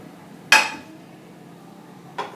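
A cooking pan handled on the stove with two sharp metallic clanks, a loud one followed by a softer one a moment later, alone in a quiet kitchen.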